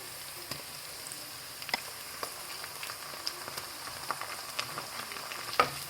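Homemade green curry paste frying in oil in a pan, a faint steady sizzle with light crackles and pops scattered throughout, heard alone with no talking.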